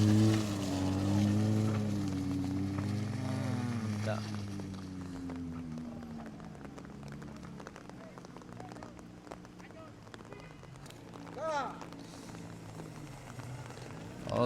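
A Toyota Agya stalled on the steep climb at Puncak Bukik Kapau strains as its engine revs hard in a low, wavering drone, easing off partway through, while people shout over it.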